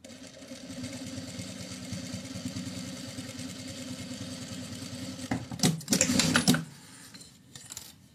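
A sewing machine topstitches a fabric pouch, its needle running in a steady, rapid mechanical rhythm, then a louder rattling burst near the end before it slows and stops.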